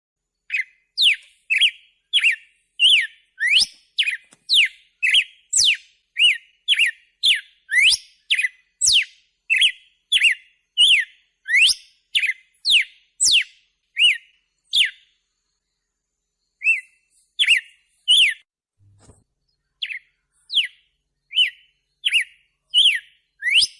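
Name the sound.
song of a bird with red head and throat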